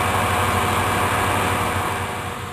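A continuous high-pitched motor whine with steady grinding, close and loud, like a power drill boring through material.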